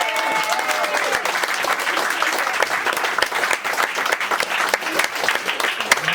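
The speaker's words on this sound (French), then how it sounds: "Vous applaudissez." Audience applause during a French comedy stage show, a dense sustained wash of clapping that stays steady and fairly loud throughout.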